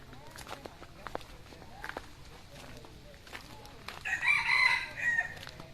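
A rooster crows once near the end of the clip from a chicken coop in a garden, loud and close, after a stretch of footsteps and soft rustling.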